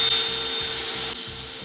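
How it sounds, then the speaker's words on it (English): A power drill boring pilot holes for the fasteners of a Freedom hidden countertop support bracket, a steady close whirring grind with a brief dip near the end, no talking. "I'm going to go ahead and drill some pilot holes"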